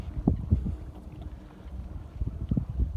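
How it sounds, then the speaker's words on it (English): Wind gusts across the open shore of Dishui Lake in Shanghai, buffeting the microphone in uneven low rumbles that rise and fall. The gusts come close and loud in bursts, with no speech. "there's a lot of wind here"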